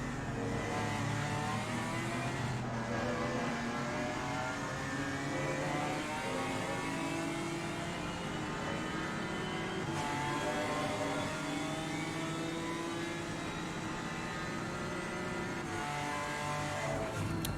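A BMW GT4 race car in the Assetto Corsa Competizione racing game, its engine note climbing and dropping steadily through gear changes, a continuous close revving drone with no talk.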